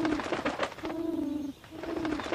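A pigeon in a Tamil children's cartoon coos in a soft, steady, low call with a short pause near the middle, heard alone and fairly close.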